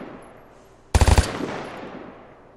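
A quick automatic burst of about five shots rings out in the online shooter game Vigor, loud and close, followed by a long decaying echo over a quiet outdoor background.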